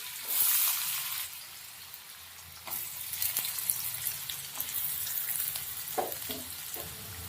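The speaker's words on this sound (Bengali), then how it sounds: "এবার এই যে কেটে রাখা আলুটা ধুয়ে নিয়েছি, দিয়ে দিলাম তেলের মধ্যে।" Washed, cut potato pieces dropped into hot oil for a chickpea dish, giving a loud burst of sizzling that settles into steady frying with stirring clinks and scrapes.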